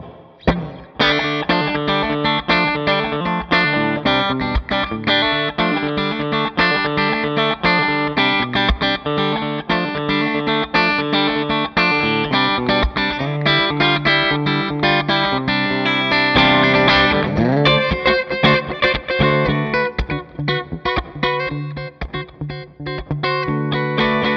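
A distorted Gretsch Jet electric guitar plays quick hybrid-picked notes and chords with effects, loud and continuous, with no voice over it.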